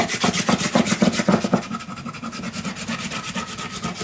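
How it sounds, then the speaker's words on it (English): Paper being burnished down by hand onto a page of a travel mini album, heard as quick rhythmic rubbing strokes that settle into a steadier, softer scraping friction, close and alone. "burnish it down"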